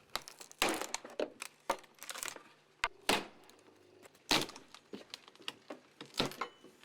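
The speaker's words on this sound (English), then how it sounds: "the wood trim pries off easily" Wood trim pried off a door frame while a sliding door is being replaced, giving sharp cracks, creaks and crinkling snaps in irregular bursts, close by, with no talking.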